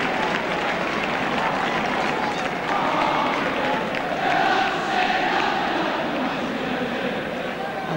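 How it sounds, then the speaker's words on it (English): Sympathetic applause from a Liverpool football crowd for injured player Emlyn Hughes, a broad sustained roar of clapping and crowd noise from a large stadium, with commentary talk running over it. "Sympathetic applause for Emlyn Hughes"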